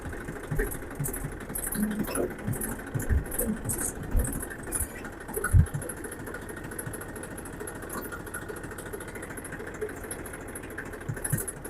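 A tractor engine idles and runs steadily in a village setting, a continuous mid-pitched rumble with faint clattering and occasional bumps over it.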